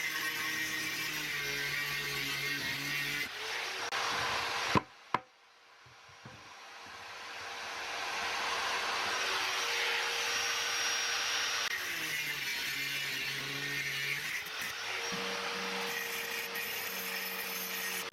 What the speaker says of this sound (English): cut them with a side grinder